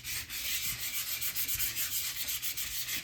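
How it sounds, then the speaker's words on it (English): Glossy Tim Holtz packaging being scratched and roughened with an abrasive, a close, steady hissing rub in quick back-and-forth strokes, with no talking. "But I'm scratching it up"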